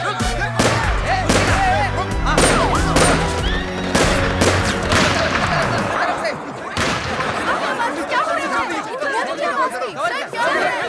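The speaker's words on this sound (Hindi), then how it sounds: "शूट करने के ऑर्डर्स मिल गए हैं, फायर कीजिए" Gunfire in a tense movie chase scene, rapid sharp shots in a dense burst over loud chatter and shouting, fading into a busy, noisy background.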